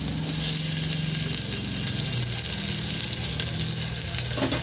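Black cumin seeds and onions fry in hot oil, giving a steady, close, dense sizzle that holds evenly throughout with no talking.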